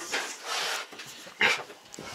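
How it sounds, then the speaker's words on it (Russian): Dog sniffing around a pig pen, with short nasal sniffs and a few soft whimpers in quick bursts, close to the microphone and fairly quiet. "Собака по нюху идет."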